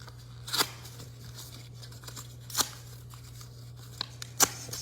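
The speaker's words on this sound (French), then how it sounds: "Il faut que je déchire bien le passeport kazakhstanais, là." A Kazakh passport being torn apart by hand, three distinct close ripping bursts separated by pauses over a quiet, steady hum, with faint small crinkles in between.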